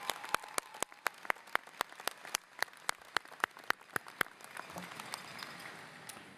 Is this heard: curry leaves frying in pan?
no